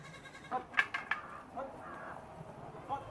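Goats bleat on a goat farm, a few short, fairly faint calls clustered in the first half and one more near the end, over a quiet background.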